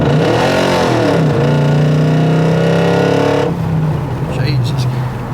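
The V8 of a 1984 Buick Electra wagon with an LS1 swap revs hard and loud from inside the cabin, pitch climbing through a gear, dropping at a shift, then pulling up again as the car accelerates.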